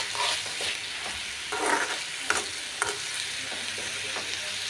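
Mezhukkupuratti, a Kerala vegetable stir-fry with quick-cooking cucumber-like vegetable, being stirred in a hot pan: repeated scraping strokes over a steady low sizzle, with several sharp clinks of the spoon against the pan.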